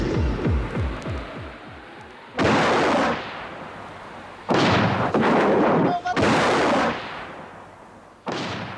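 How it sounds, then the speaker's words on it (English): Surface-to-air missiles launch in loud, sudden roaring bursts, with a booming rumble fading after each blast. Several launches follow one another at uneven intervals. "Surface-to-air missiles soaring off towards their target."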